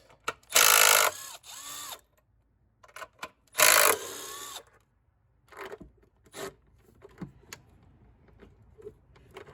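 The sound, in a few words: ratchet on Jeep Liberty engine bolts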